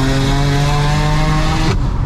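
A 660hp single-turbo BMW 335i pulls hard in third gear, its engine a loud, close, rising roar that cuts off abruptly near the end as the throttle lifts.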